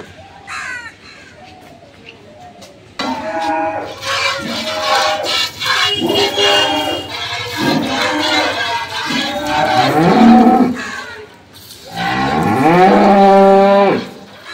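A dairy cow lets out several long, loud moos nearby, one after another, with a deep bellowing final call after a short pause.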